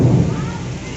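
Rain pours during a thunderstorm, a loud, steady wash of broadband noise with a low rumble of thunder underneath, lasting about a second.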